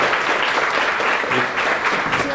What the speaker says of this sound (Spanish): Un fuerte aplauso a la maestra, por favor.